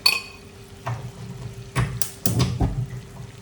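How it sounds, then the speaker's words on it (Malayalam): A spoon scrapes and knocks around a pan as Mysore pak batter is stirred into bubbling sugar syrup over low heat, giving soft, irregular clinks and scrapes close by, with no talking. "നന്നായി ഇളക്കണം."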